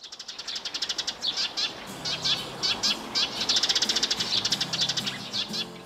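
Birds chirp and twitter in a summer forest along a trekking trail, with rapid, dense bursts of song repeating throughout, fairly close and steady over soft background ambience.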